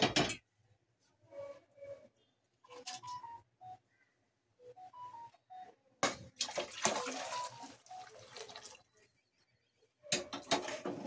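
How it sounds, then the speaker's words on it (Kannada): Hot water goes into a pot of ghee rice in short splashing pours. The longest burst comes midway and another near the end, with quiet gaps and a few faint clinks between them. "ಬಿಸಿನೀರನ್ನ ಸೇರಿಸ್ಕೊಳ್ಳಿ ಅಳತೆಗೆ ತಕ್ಕಂಗೆ."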